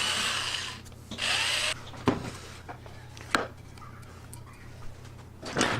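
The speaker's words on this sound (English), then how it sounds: "I'm going to go ahead and drill some holes so that the top piece will mate with the front panel" A power drill boring a handful of holes through a wooden top panel so it can join the front panel, in short loud bursts separated by quieter gaps with clicks and handling knocks.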